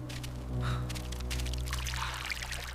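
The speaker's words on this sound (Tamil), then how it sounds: "ஓடையா இருக்கு" Water from a stream flows and splashes in a continuous close, faint wash with bursts of bright trickling, heard outdoors in a wild, isolated setting.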